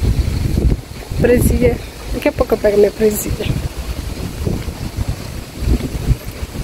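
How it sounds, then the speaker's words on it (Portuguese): Strong wind outside in front of a church, buffeting the microphone in loud, gusty rumbles throughout while someone talks over it. "E eu tô descabelada devido tanto vento que tá aqui."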